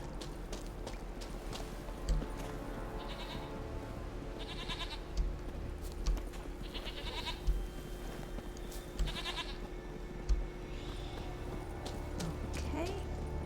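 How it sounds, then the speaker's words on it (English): Goats bleating in a grassy highland area of The Witcher 3, several short nasal bleats at intervals over a steady ambient bed with occasional hoof-like thuds, moderately distant. "Oh, it's a goat."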